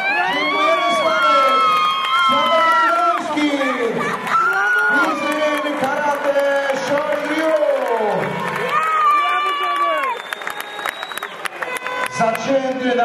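Loud crowd cheering and applauding at an MMA fight in Kwidzyn in 2012, a sustained roar with shouts and whistles that fills the whole span and eases slightly near the end.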